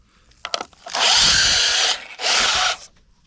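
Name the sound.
drill press drilling with a 1/2 inch bit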